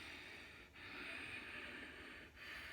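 Ujjayi yoga breathing: a steady, fairly strong hissing breath with a constricted-throat rasp, running as a long continuous flow broken by two brief pauses between breaths.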